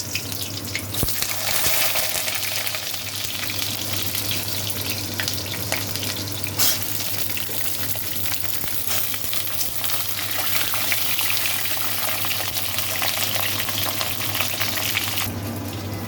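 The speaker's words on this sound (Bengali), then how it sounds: "এদিকে পটল ভাজাটা একটু ভাজা ভাজা হয়ে যাক" Pointed gourd (potol) pieces fry in a pan after tempering, producing a steady, continuous sizzle with light stirring clinks throughout and no speech.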